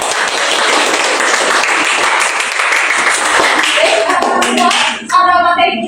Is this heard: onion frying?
no